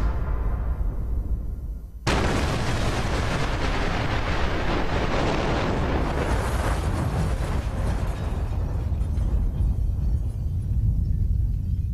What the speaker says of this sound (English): The bomb ripped through the embassy and the high-rise cooperative building opposite.